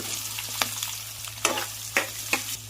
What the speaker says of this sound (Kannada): ಎಣ್ಣೆ ಕಾದಬೇಕು. ಹಸಿಮೆಣಸಿನ್ಕಾಯಿ ಫ್ರೈ ಆದಮೇಲೆ ಈರುಳ್ಳಿ.